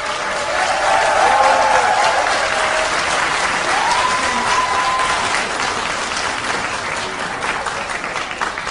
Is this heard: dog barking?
no